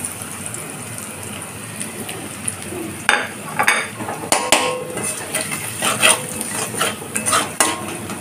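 Crushed ginger, garlic and spices stirred in hot oil over a low flame for a Bengali chana dal, with a faint sizzle under repeated scraping and clinking of a utensil against the pan, growing busier after the first few seconds.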